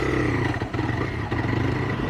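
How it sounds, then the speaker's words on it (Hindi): A TVS Raider 125 motorcycle pulling off in second gear, its engine chugging and jerking unevenly with brief dips where it nearly stalls, close by and without talk. "तो ये देखो झटके खाती है, बंद भी हो जाती है कभी कभी"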